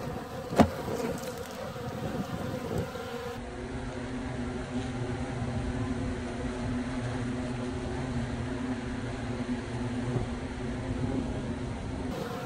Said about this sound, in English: Bees collecting pollen.